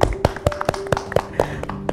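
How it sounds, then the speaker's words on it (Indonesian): Children at an SDIT MTA school event clap their hands in applause, a series of sharp close slaps falling in a quick, slightly uneven rhythm, with a faint steady tone running underneath. "Kita tepuk tangan dulu ya."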